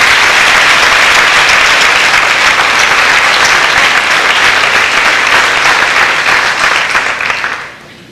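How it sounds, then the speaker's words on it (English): Loud, dense applause from an audience at a middle school awards banquet carries on steadily for several seconds, then tapers off toward the end. "Let's give them a rousing round of applause."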